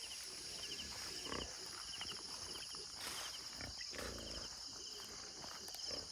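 Pigs on a pig farm out in open farmland make faint grunts and shuffling noises against a constant background hum of insects and crickets.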